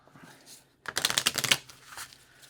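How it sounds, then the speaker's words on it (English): A deck of playing cards is riffle-shuffled during a Street Masters tabletop board game, a close, crisp burst of rapid flutters lasting under a second, with quiet room tone around it. "Well, you keep shuffling the deck."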